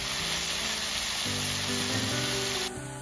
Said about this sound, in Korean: 미림 2큰술도 넣어 함께 볶다가